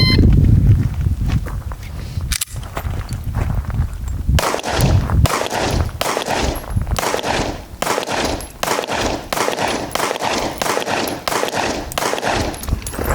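Rapid volleys of pistol fire from subcompact P365X, Glock 43X and Hellcat handguns ring out at an outdoor range, sharp close cracks following a brief exchange of voices before a continuous string of shots fills the rest.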